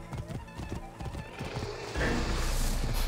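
Galloping hoofbeats from a horse in Assassin's Creed Origins, sharp and rhythmic for about two seconds before a louder broad rush of sound washes over them, with a whinny-like cry near the end.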